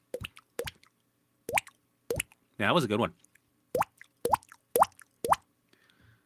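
Several sharp, distinct water-drop plops sound close and clear, spaced irregularly, one of them a longer wobbling bubbly splash, with a voice talking briefly between them.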